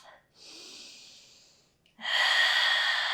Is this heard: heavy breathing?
yes